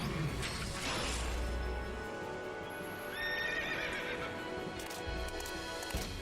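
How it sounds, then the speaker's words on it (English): In Final Fantasy 13, the summoned Odin's horse neighs loudly and gallops with heavy clip-clopping hooves, over dense game music and a crash of effects, close and full. "Stealing your horse, Odin."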